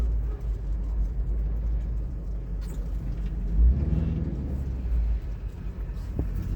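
A car driving slowly past a shop with many vehicles parked around it, heard from inside as a steady low engine and road rumble with a brief louder thump midway.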